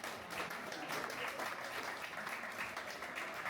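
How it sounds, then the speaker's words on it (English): A convention crowd at the Timeless Gaming Convention in Liverpool claps steadily for the content creators, a continuous, moderately distant wash of applause with no single claps standing out. "Can we have a big round of applause for all our wonderful content creators?"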